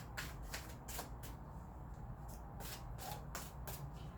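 Tarot card deck shuffled by hand, a series of quick, soft riffling bursts that repeat in an uneven rhythm, close and fairly quiet with no talking.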